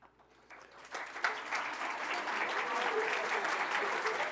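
An audience gives an ovation for the dean of the architecture, construction and design faculty at Universidad del Biobío during a master class, the applause starting thin and swelling into steady, dense clapping from a large room.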